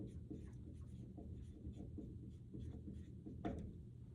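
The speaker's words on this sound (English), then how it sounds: "I'll write up here contractile." Handwritten notes being written during a physiology lecture, a soft continuous scratching of the writing tool with a few sharper strokes, faint and close, no speech.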